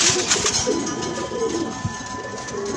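Very young pigeon squabs make soft, repeated cooing and peeping calls close by in a loft, with steady background noise and no talking.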